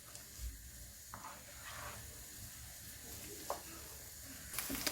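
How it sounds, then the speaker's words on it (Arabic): Onions frying in oil until golden give off a faint, soft sizzle with occasional light stirring clicks and scrapes, quiet and steady from start to finish. "رايحين نحمص البصلة لحتى يصير لونها ذهبي"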